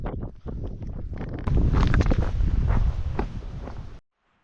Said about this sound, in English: Still raining. Still bloody windy too.